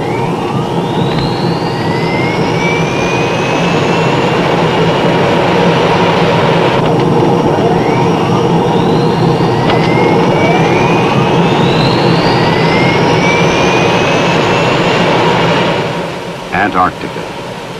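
A loud, steady jet airplane engine roar with rising whine sweeps, continuous throughout, cutting off near the end with a few clunks.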